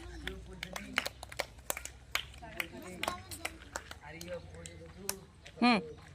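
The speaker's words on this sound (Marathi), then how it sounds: "छान खेळला टाळी वाजवा" Schoolchildren at a village school playing a sandal game clap their hands in scattered, uneven claps across several seconds, close by, mixed with children's voices talking and calling.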